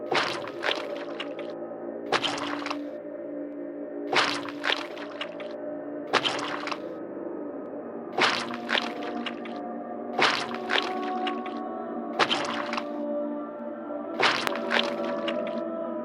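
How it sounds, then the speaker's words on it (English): Heavy wet thuds of an immense slippery body lumbering against a door in the game Dagon, about eight slippery slamming impacts over a low droning ambient hum. "I hear a noise at the door, as of some immense slippery body lumbering against it."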